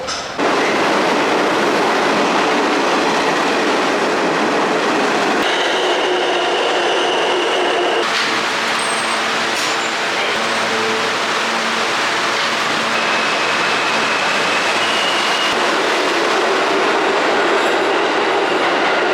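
A New York City subway train runs loudly along the rails, a continuous roar with clacking wheels and metallic squeals and tones shifting as cars pass, filling the whole stretch with no voices.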